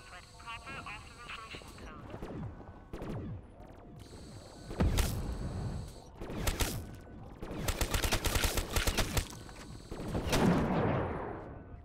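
Video game gunfire against zombies in Call of Duty, bursts of rapid automatic shots and single cracks coming in clusters, loud and near, with voices talking between and over the shooting.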